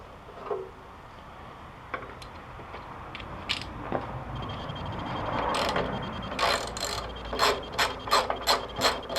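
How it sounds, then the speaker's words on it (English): A ratchet backs out the bolts on the pull start of a 1966 Briggs & Stratton engine, with a few scattered clicks and taps first, then bursts of fast, sharp ratcheting clicks building near the end, close and clear. "There's just 3 bolts that hold the pull start on."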